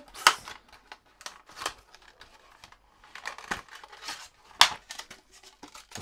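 Packaging for an MFB Hecht Mixbox fishing lure kit being unpacked, with close plastic and paper crinkling, tearing and rustling in irregular bursts and a few sharp crackles, no talking.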